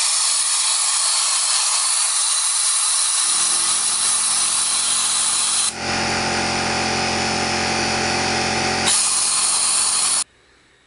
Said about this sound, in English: there's a switch for clean and spray for the abrasive, and then there's a button on it right here